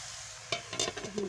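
Leafy greens frying in a pan as they are stirred, a soft sizzle with a few scraping stir strokes in the second half, close up and without speech.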